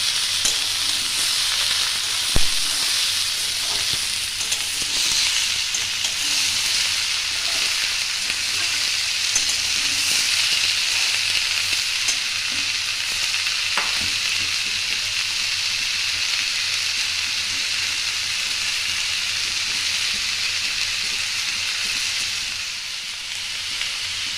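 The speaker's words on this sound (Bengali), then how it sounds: "এবার ভালো করে একটু নাড়িয়ে দেবো, পেঁয়াজ আলুর সাথে নাড়িয়ে দেবো" Ridge gourd, small mourala fish, onion and potato fry in a pan with a steady, loud hiss, close and continuous, with occasional faint stirring scrapes and no voices.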